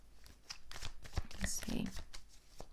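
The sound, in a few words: shuffling tarot cards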